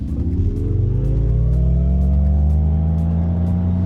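An MG Cyberster electric car launching hard under launch control, a smooth rising motor whine that climbs steadily in pitch over a few seconds, loud and close with no talk.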